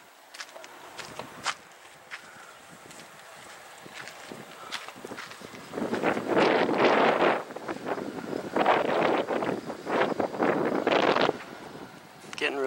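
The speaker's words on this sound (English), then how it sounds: "Getting really windy." Strong gusts of wind roar and buffet in waves, loudest in the second half, with footsteps crunching faintly underneath.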